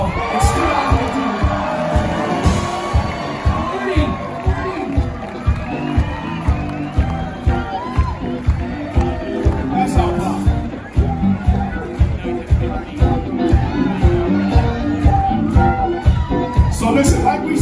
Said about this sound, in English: I want you to give him a very, very extra large round of applause